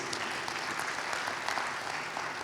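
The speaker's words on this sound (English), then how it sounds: "you can clap for that, definitely, please" Faint audience applause at a county address, an even, distant patter of many hands clapping without pause.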